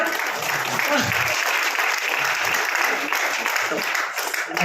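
A seminar audience claps steadily and densely for the whole stretch, a broad wash of hands with no break in the sound, while the speaker on stage waits.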